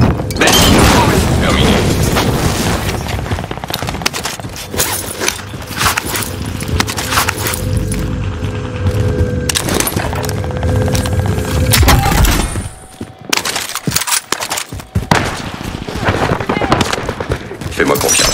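Gunfire in the video game Warzone in resurgence mode, loud dense bursts of shots and booms over about twelve seconds, then a short lull before more scattered shots, with game voices heard around them.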